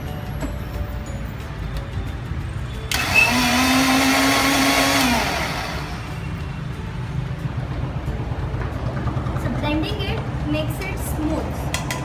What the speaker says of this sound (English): Some curds and some water in the blender.